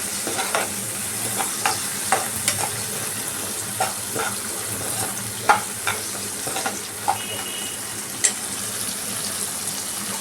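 Capsicum pieces fry in a pan with a continuous low sizzle, punctuated by frequent sharp clicks and taps of a spatula stirring against the pan, close and moderately loud.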